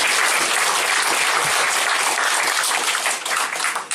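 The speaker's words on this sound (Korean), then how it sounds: "이럴 때는 박수를 한번 쳐주셔야 됩니다." A church congregation claps and applauds steadily through a thanksgiving service marking a new church's founding, a dense, loud wash of many hands that eases slightly near the end.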